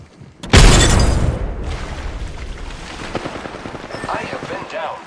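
Frag grenade explosion in Apex Legends, a sudden heavy boom followed by a decaying rumble, with scattered gunfire and game noise continuing afterward.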